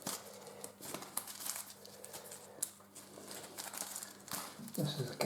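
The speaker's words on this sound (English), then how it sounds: "I'm going to shuffle them best as I can." Two packs of playing cards get shuffled by hand, a faint, soft rustling and riffling that comes in uneven spurts against a quiet room background.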